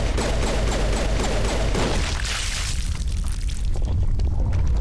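Rapid gunfire rattles in the Mass Effect video game while a creature is shot, a dense loud burst of shots over booming rumble that fades into quieter low thuds.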